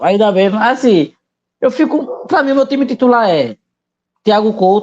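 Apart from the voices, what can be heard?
No distinct noise like a dog, phone or traffic.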